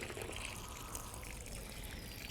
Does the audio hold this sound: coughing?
no